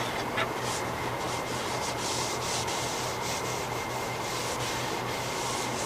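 A heavy coat of finish is rubbed by hand onto a wooden tool handle, giving a continuous close, soft rubbing and scrubbing texture that stays even in loudness throughout.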